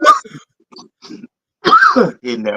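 A man coughs and clears his throat nearby. The sounds come as several short, harsh bursts with gaps between them, loud and close.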